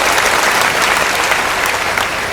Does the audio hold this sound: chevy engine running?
no